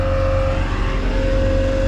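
A skid steer pushing dirt on a pond dam damaged by muskrat holes, its engine droning loud and steady at close range with a constant tonal hum.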